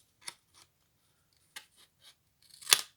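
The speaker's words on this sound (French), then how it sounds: "si vous avez un peu de papier qui dépasse, vous le coupez" Scissors snipping excess paper on a cake-slice box, three or four crisp, separate cuts spaced out, close and alone.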